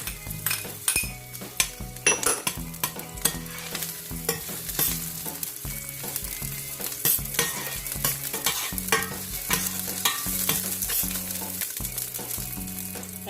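Garlic and ginger sautéing in a pan for beef stew with daikon, a steady close sizzle with repeated rhythmic scrapes and clinks of a utensil stirring against the pan.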